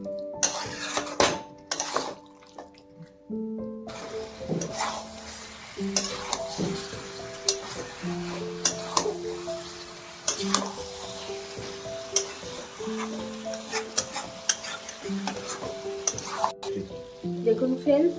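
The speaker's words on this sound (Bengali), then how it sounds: "আমি জল দিই না, এমনি চিকেনটাকে কষে নিচ্ছি" Chicken kosha fries in its own oil without water, giving a close sizzle with spatula stirring and pan clatter over steady background music.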